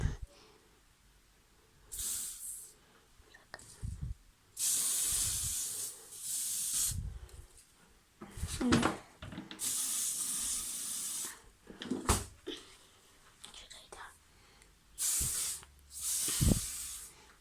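A bathroom freshener being sprayed from an aerosol can: a series of sharp hissing bursts of one to two seconds each, close and fairly loud, separated by short pauses and a few clicks and knocks.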